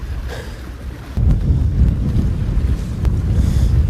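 Strong wind roars steadily across an open boat at sea during cuttlefish fishing off Goheung, buffeting the microphone, swelling louder after the first second and staying constant with no talk.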